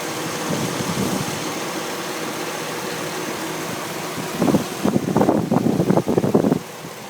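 A 2006 Chevrolet Silverado 4x4 pickup engine idles with a steady, low hum that runs throughout, joined near the end by some louder, uneven rumbling and knocking.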